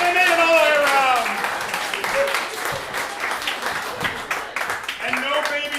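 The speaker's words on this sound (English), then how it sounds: "them a big round of applause" An audience claps and applauds at an improv comedy show, a dense wash of clapping that starts loud and gradually thins, with a performer's voice speaking over it throughout.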